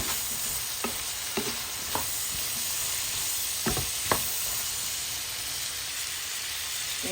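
Broccoli frying with chicken chowmein in a pan, a steady close sizzle with several sharp scrapes and clacks of stirring spaced through it, no voices.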